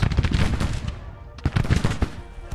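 Infantry musket volleys in Grand Tactician: The Civil War, a dense crackling run of many gunshots in quick succession, loud and close, easing briefly before another burst.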